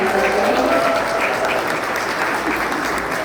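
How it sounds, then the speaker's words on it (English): Steady applause from a crowd at a campaign launch, dense clapping that holds at an even level throughout with a faint murmur of voices underneath. "how about another round of applause"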